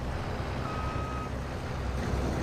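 A pickup truck idles in the game, a steady low engine rumble running throughout, with a faint reversing-style beep tone briefly in the middle, close and constant.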